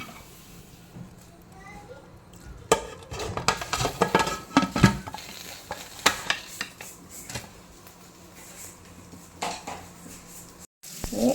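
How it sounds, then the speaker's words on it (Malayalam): A pressure cooker of masala-coated goat head pieces being lidded, giving a cluster of close metallic clanks and scrapes in the middle while a person talks over quieter kitchen clatter. "ഇനി നമുക്ക് കുക്കർ അടച്ച് വെച്ച് വേവിക്കാം"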